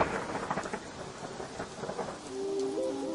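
A thunderstorm with steady heavy rain pours throughout as a dramatic story sound effect, rumbling thunder swelling under the downpour, and a faint tonal whine rises near the end.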